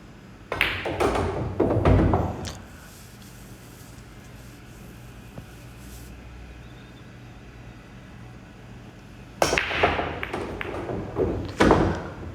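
A cue ball struck for stop shots on a pool table: a few sharp clicks and knocks early on, then a quiet stretch, then another cluster of crisp ball-and-cue impacts near the end, close by with no talk.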